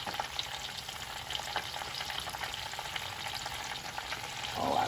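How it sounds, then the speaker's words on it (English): Turkey meatballs frying in hot oil give a steady, close crackling sizzle with dense popping that swells a little louder near the end, with no voices. "I like that sizzle"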